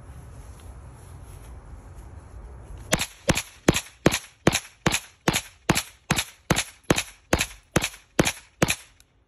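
An 11-year-old fires a Magnum, emptying the magazine outdoors: about fifteen sharp, loud shots spaced evenly in a steady rhythm after a few seconds of wind noise, with no talking.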